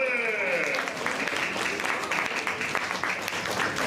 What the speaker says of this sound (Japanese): みんな拍手しようぜ